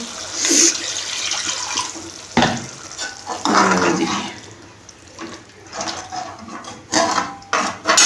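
Water poured into a pan of masala being cooked in a home kitchen gives uneven splashing and gushing with metallic clinks of pots, bursts rising and fading over several seconds.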